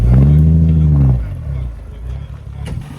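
A vintage 4.5 litre T7 car engine revs loudly up to a peak in the first second, then settles into a lower, rougher idle with faint clatter, heard close by.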